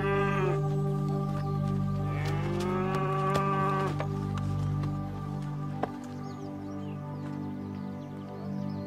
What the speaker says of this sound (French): Je t'ai ramené ta vache.